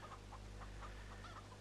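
Chickens cluck softly in an animal pen on a farm in the Seasons In The Valley game, short repeated calls over a steady low engine-like hum, fairly faint and with no talking.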